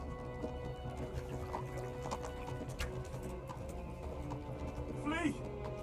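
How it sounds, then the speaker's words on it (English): Horse hooves clip-clop steadily at a moderate distance in Kingdom Come: Deliverance, a soft rhythmic patter under a dense ambient bed, with a brief higher call near the end. "My horse is getting tired too"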